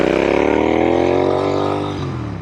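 A Royal Enfield Interceptor/GT hybrid motorcycle, styled after a Clymer, runs with a steady, loud engine drone and a rich harmonic hum, running evenly and easing off slightly toward the end.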